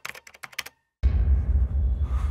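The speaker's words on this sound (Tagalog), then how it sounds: "narinig kong may nagtatype." A quick burst of crisp keystrokes on a computer keyboard, close and distinct, followed by a moment of silence and then a dense, loud low rumbling background.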